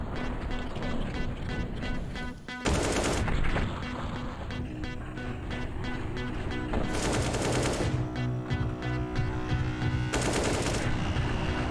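Rapid bursts of gunfire in a Perfect World Asia League esports match, likely Counter-Strike, cracking repeatedly and loudly over a steady game and crowd din with short gaps between volleys.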